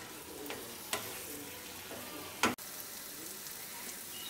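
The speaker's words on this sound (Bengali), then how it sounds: "আলুটার সাথে মশলাটাকে আর একটু ভালো করে আমি কষিয়ে নিচ্ছি।" Fried potatoes are stirred with spice paste in a pan, giving a soft, low sizzle under scattered scraping and stirring strokes, with one sharp clack of a utensil against the pan near the end.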